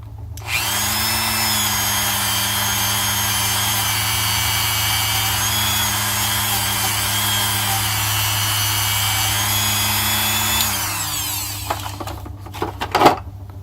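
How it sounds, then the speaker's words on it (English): A handheld Dremel rotary tool runs steadily, grinding on copper pipe during a pinhole leak repair, a loud continuous high whine that holds for about ten seconds before spinning down, followed by a few clicks and handling knocks. "And then I use this Dremel."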